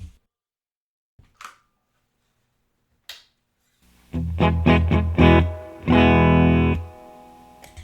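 After a few faint clicks, an electric guitar plays a short run of distinct plucked notes and a ringing chord with a clean, unprocessed tone, heard dry through the amp before an EarthQuaker Special Cranker boost/overdrive pedal is engaged.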